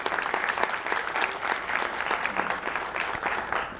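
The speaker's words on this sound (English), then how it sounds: "Can we give them a final round of applause" A final round of applause from a seated audience for a panel discussion, moderately quiet, with individual claps audible in a continuous patter.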